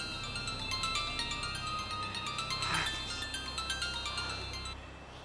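An electronic phone ringtone plays a repeating bright melody over a steady background hum, continuing without pause.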